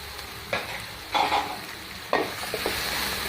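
Onion and chili frying in a pan, a steady close sizzle broken by a few louder bursts as ingredients are stirred and tossed, with no voices.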